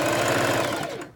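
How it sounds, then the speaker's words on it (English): A sewing machine stitches an understitch along a hem facing, its steady rapid needle chatter loud and close before easing off near the end. "I'm going to put the seam allowance onto the facing and stitch what's called the"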